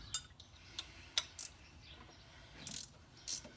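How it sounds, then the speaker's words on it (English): A ratchet wrench clicks in several short bursts while parts come off a Nash Metropolitan during a generator-to-alternator swap, sharp close ratcheting separated by quiet pauses. "I love ratchet wrenches."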